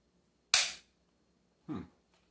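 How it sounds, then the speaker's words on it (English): A Winchester 1977XS air gun, cocked with the safety on, gives a sharp snapping click when the trigger is pulled without firing, followed about a second later by a softer, duller second click in an otherwise quiet room. "Gun doesn't fire. Fully expect just a click here."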